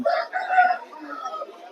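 A rooster at a busy livestock market in Nandigama crows one drawn-out, fairly loud call lasting nearly two seconds, with faint market chatter around it.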